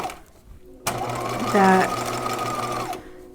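Sewing machine running a seam on a gown with illusion net and lining, one steady close burst of stitching after a brief spoken word.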